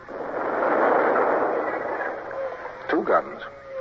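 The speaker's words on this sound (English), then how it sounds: "Signal gun from the Indefatigable, Tapling." A signal gun salute fired from the ship Indefatigable booms as a long, rolling distant report that slowly fades, with a voice speaking briefly near the end.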